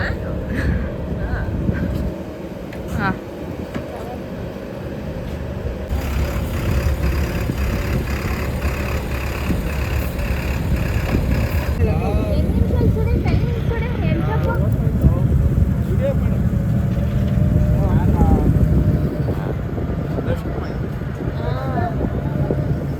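A boat engine runs with a steady low hum and drone throughout, heard under people talking nearby on a festival-day trip toward Sigandur Chowdeshwari temple.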